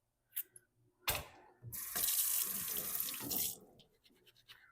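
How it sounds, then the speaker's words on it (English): Waxing brushes rinsed under a running tap, water streaming steadily into a sink for a couple of seconds between brief splashes and knocks, close and fairly quiet. "it doesn't really help to rinse waxing brushes off"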